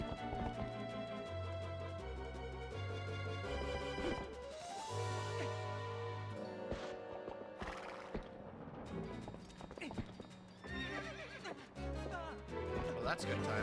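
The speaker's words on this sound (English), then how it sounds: "It's my horse!" A horse in the Zelda: Twilight Princess video game neighs and whinnies repeatedly, with clip-clop hoofbeats, over the game's steady background music.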